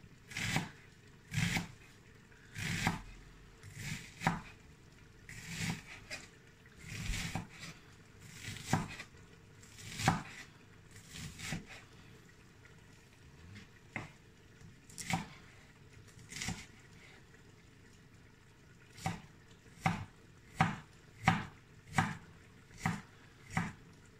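Knife strikes on a cutting board while finely chopping ingredients for rougail saucisse, a steady series of crisp, close taps in uneven bursts, quickening toward the end, with no talking.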